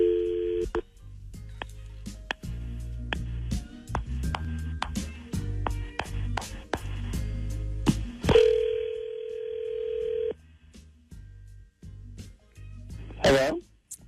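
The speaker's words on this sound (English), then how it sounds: "let's make the phone call on War of the Roses and see who he's going to send the roses to." Telephone keypad tones and a dial tone as a call is placed, followed by a steady ringback tone, all clear and close with no talking.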